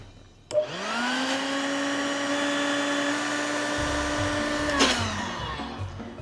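Electric air pump inflating a tufted Minnidip pool switches on with a click and runs as a steady, fairly loud whirring drone for about four seconds before cutting off.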